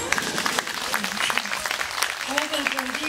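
An audience claps for a singer in a dense, steady round of applause while a voice talks over it.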